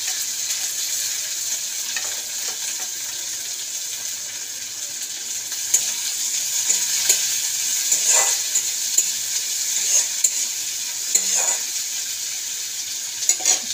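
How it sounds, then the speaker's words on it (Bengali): Sliced onions sizzle steadily in hot oil with dry red chilies and whole cumin in a pan, punctuated by scattered clicks and scrapes of stirring. "এবার পেঁয়াজগুলো দিয়ে দিলাম।"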